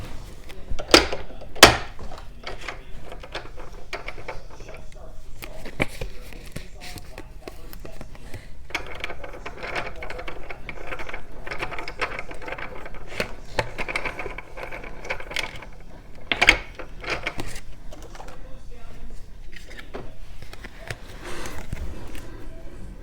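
A Stampin' Up! Big Shot die-cutting machine cuts paper with a run of ratcheting, grinding crank noises, punctuated by several sharp clacks and knocks, close and moderately loud.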